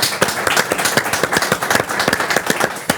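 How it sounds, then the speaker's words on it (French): A television studio audience claps, with distinct individual hand claps in a brisk, uneven rhythm at a moderate level and no talking. "on peut l'applaudir"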